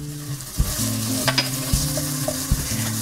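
Garlic, red pepper seed and shrimp sizzle in olive oil in a large skillet over medium heat, a close hiss broken by spoon clanks and stirring scrapes, with a steady low hum underneath and no speech.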